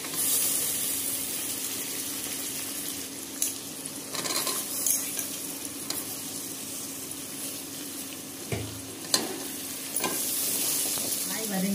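Vegetables with green peas sautéing in a pan for varagu millet vegetable biryani, a continuous close sizzle and hiss broken by occasional stirring scrapes and light pan knocks, without speech.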